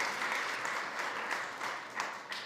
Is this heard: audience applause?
yes